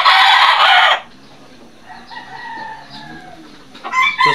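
A chicken recovering from a cold crows loudly and harshly for about a second, then gives a few quieter clucks and a final raspy call, with no talking.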